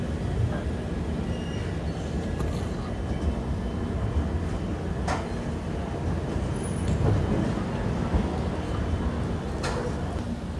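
A Jaynagar–Amritsar clone Humsafar express rolls through Ludhiana Junction without stopping. A steady low rumble of wheels and carriages fills the whole stretch, with faint clanks and squeals over it. There is no talking.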